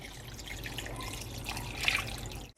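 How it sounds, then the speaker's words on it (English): Four cups of water poured into a cooking pot for a one-pot vegan pasta, a steady close splashing stream running without a break and with no voices. "To that, I'm going to add 4 cups of water."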